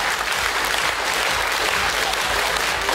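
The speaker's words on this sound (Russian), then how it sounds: "Давайте громче аплодисменты нашим хореографам." Dense, loud applause fills a concert hall after a children's dance performance at an annual recital, a continuous wash of many hands clapping at once with no pauses.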